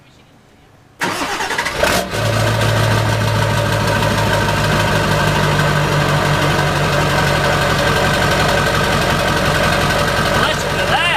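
A Ford Super Duty fitted with a 4-inch straight pipe cranks and fires up after a second of quiet, then settles into a loud, steady, rumbling idle close by, with voices faintly around it.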